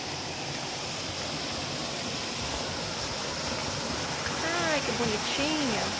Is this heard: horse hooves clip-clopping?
no